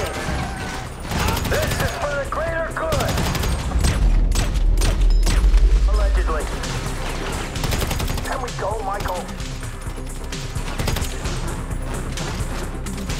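Dense bursts of gunfire and heavy automatic fire crackle through a heist shootout in Grand Theft Auto V, rapid and loud and peaking mid-way, with game dialogue and a player's voice talking over the shots.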